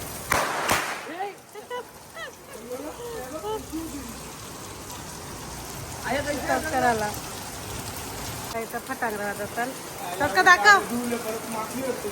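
Steady rain patters throughout during Diwali while people talk over it, with a few louder gusts of rainfall toward the end.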